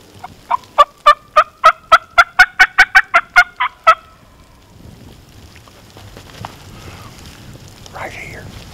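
A wild turkey gobbles in the Appalachian woods of West Virginia during a spring hunt, a loud rapid burst of about a dozen pulsed notes in the first four seconds, then quiet woods with faint movement and a brief call.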